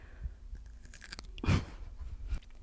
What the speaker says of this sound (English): I'm sorry if you're hearing me, like, crunch big time right now